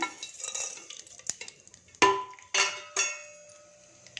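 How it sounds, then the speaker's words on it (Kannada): Mustard seeds, chana dal, urad dal, cumin and fenugreek tipped into hot oil in a pan, giving a few sharp clinks and crackling bursts that fade between hits, with no talk. "ಇಲ್ಲಿ ಸಾಸಿವೆ ಕಡಲೆಬೇಳೆ ಉದ್ದಿನಬೇಳೆ ಜೀರಿಗೆ ಮೆಂತ್ಯ ತೊಗೊಂಡಿದ್ದೀನಿ ಇದನ್ನು ಹಾಕ್ತೀನಿ ಇವಾಗ"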